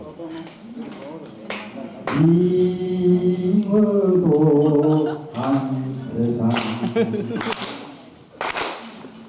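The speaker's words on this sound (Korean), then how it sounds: "박수 치고 난 뒤에 장단을 박수를 맞춰요" Sharp rhythmic claps keep time at a 1992 sixtieth-birthday celebration while a voice sings a Korean folk song, loud accented beats landing at intervals over and between the sung phrases.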